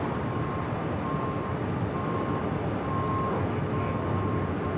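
A Boeing 787 Dreamliner airliner arrives at LAX from Tokyo Haneda, heard as a broad, steady jet roar with a thin faint whine above it, constant in level and with no voices.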